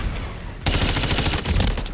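Rapid automatic gunfire from Modern Warfare III bursts in abruptly partway through, a dense, loud, continuous rattle of shots that carries to the end.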